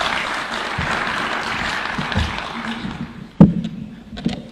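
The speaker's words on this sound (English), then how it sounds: "Please, let's clap for the Governor." An audience at an outdoor official event hosted by Kenya's president applauds the governor of Turkana. The clapping is moderate and continuous at first, then thins out, leaving a few louder scattered claps and some background noise.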